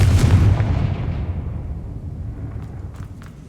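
The Confringo fire spell in Hogwarts Legacy goes off with a loud, deep boom at the start that rumbles away, leaving a quiet tail with faint clicks.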